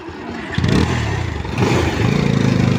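A motorcycle engine runs close by, its low steady drone rising as it revs and accelerates, with rough, slightly clattery pulses, out on a road in wet weather.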